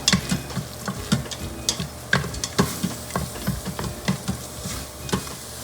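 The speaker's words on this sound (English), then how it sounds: "Give that a good mix." A spoon stirs dal makhani in an Instant Pot, giving irregular scraping and knocking strokes against the metal pot, close and fairly loud, with no one speaking.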